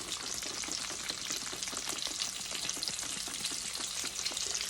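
Sausage frying in bacon fat in a pan, a steady dense sizzle and crackle that holds close and constant with no talk.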